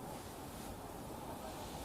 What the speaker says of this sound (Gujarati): ધોધમાં પાણીનો પ્રચંડ પ્રવાહ છે